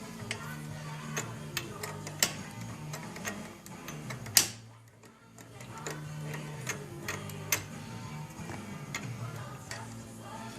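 Small metallic ticks and clicks sound from an Allen wrench loosening the die holder on an RCBS Pro 2000 reloading press, irregular and close, with one sharper knock partway through and faint background hum.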